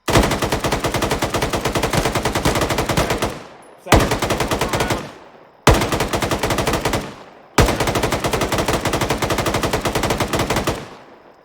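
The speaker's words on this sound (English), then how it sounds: "How many AR rounds does it take to blow out a tire?" Rapid bursts of AR rifle fire aimed at a vehicle tire, four sustained strings of close, loud shots with brief pauses between, no talking.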